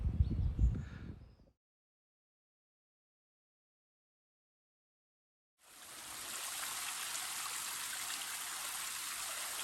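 A waterfall in woodland, heard as a steady, full rush of falling water that starts abruptly after a long silence, preceded by a brief burst of low, rumbling handling noise.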